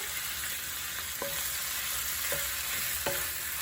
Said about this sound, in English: And stir right away. Mix it with the garlic.